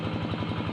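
A hand tractor's small engine chugs with a quick, even throbbing close by while plowing a flooded rice paddy, a brief steady run of pulses with no pause.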